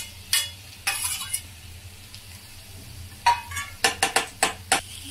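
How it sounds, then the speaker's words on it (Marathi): Boiled, mashed potatoes land in a pan of sizzling tempering, giving a few soft thuds and scrapes, then a run of quick, close clinks and stirring knocks against the metal pan over a faint sizzle. "आता मी याच्यामध्ये उकडलेले बटाटे जे आहे स्मॅश करून घेतलेले ते ह्याच्यामध्ये मी ऍड करते।"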